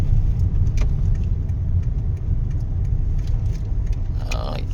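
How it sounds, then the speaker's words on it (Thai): A car pulling in to park, its engine a steady low rumble close by throughout, with a brief jingle near the start and a faint voice at times. "เดี๋ยวผมจอดรถก่อน"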